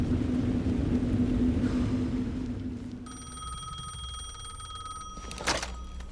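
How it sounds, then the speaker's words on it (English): A telephone rings in the video game Alan Wake 2, heard as a bright electronic ring with steady tones over a low rumbling ambience, with a sharp burst near the end. "The phone again."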